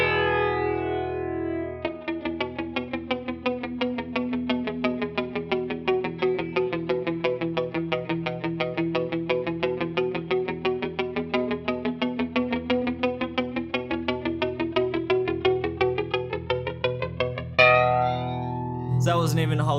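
An Aroma (Tomsline) Twister flanger pedal, an Electric Mistress clone, processes a sustained electric guitar tone, its sweeping comb-filter whoosh rising and falling slowly and steadily, loud and alone, until a new chord enters near the end.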